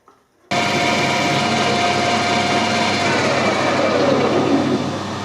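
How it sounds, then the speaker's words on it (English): A loud, steady machining whine with a grinding hiss begins abruptly after a brief quiet moment and holds constant, as a carbide milling cutter faces the end of a steel tractor drawbar pin on a lathe. "I think I'll put the milling cutter in, run this nice and fast"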